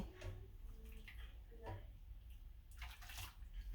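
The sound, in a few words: wig being submerged in water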